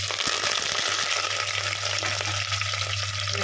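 Onions, green chillies and curry leaves sizzle and crackle steadily in hot oil in a pan, a loud, continuous fry with faint stirring and a low steady hum underneath, no voices.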